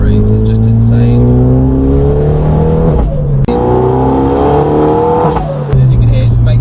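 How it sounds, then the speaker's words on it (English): A Renault Megane 3 RS fitted with a KTR400 turbo kit is driven hard, its engine rising and falling in loud, close revs through gear changes. Brief turbo flutters and whooshes come on lift-off, with someone talking over the engine. "You get that lovely sort of turbo flutter, and when you sort of release off the pedal."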